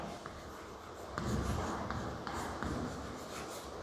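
Pen writing on paper while filling in a cash book, a soft continuous scratching close by with a few faint taps, no talking.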